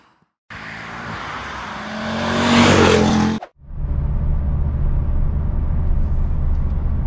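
Mercedes C30 CDI AMG diesel on the road, engine note climbing as it accelerates hard, a brief drop at a gear change, then a steady loud drone of engine and road noise from inside the car.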